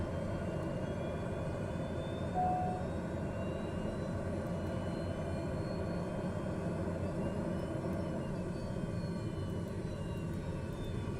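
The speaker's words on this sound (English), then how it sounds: "this is such a tough plane to start" A small plane's engine drones steadily nearby during a difficult start, a continuous rumbling hum that holds without a break.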